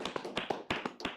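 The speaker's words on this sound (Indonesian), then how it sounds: "Tepuk tangan dulu dong." A few people clap briefly for a guest named Steve, about nine sharp, close, slightly uneven claps in just over a second, with no voices over them.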